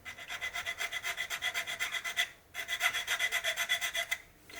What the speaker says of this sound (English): I will do the sanding before I start attaching more fragile stuff